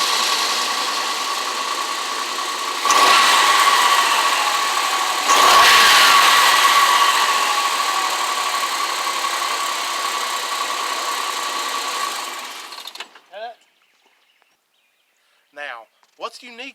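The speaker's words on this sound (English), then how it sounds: "let's start it up here. You just keep rolling there and let's hear this baby start." A 1987 Dodge Dakota pickup's engine runs with a steady, loud drone, surging at about 3 and 5 seconds before settling. It cuts off near 13 seconds, and brief talking follows.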